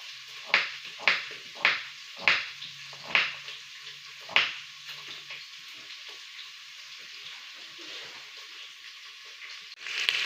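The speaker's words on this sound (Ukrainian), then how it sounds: "М'ясо у з однієї сторони прожарилось, я перевертаю його на іншу сторону так." Pork ribs fry in oil in a pan, with a run of sharp sizzling bursts at a steady rhythm that then settle into a quieter, continuous crackle. A louder stir or movement comes at the very end.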